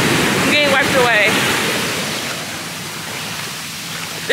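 Ocean surf at Los Cabos, Mexico washes loudly over a swimmer, a broad rushing wash that fades to a softer hiss, with a brief voice near the start.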